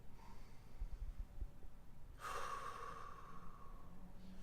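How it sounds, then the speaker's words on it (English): Slow, controlled breathing in and out through the nose, very quiet and close, with a longer, steadier airy exhale in the second half. "just taking slow breaths in and out the nose"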